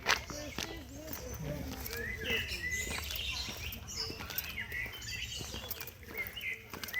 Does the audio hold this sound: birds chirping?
yes